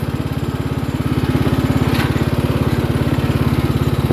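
Riding lawn mower engine running with its mower deck removed, a loud close steady idle with a fast regular thumping pulse throughout, alone without talk.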